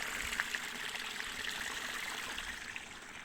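Natural spring water running in a small stream on a nature walk in Germany, a soft, continuous trickle and burble heard from close by, steady and fairly quiet, with no voices.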